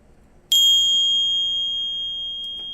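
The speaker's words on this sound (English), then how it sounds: "click that little bitty bell" A single bright bell ding rings out cleanly and rings on, slowly fading over about two seconds with nothing else around it.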